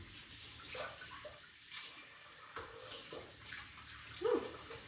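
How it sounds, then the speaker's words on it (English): Tap water runs steadily as hands are washed at a kitchen sink while preparing ham salad, a soft continuous splash with a few louder splashes and clinks, no talking. "let me wash my hands."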